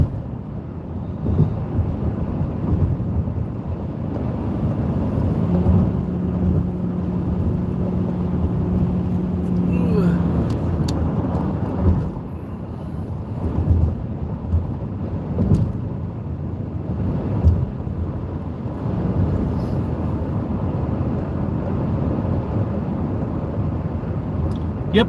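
Pontiac Aztek on a live city drive, a steady broad rumble of road and engine noise with wind buffeting, continuous and fairly loud, with a brief tonal hum partway through.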